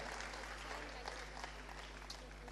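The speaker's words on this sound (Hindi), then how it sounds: "जोरदार तालियों" Applause from the audience at the Pravasi Gujarati Parv 2022 conclave, a steady wash of many hands clapping at moderate level with a constant low hum underneath and no voices.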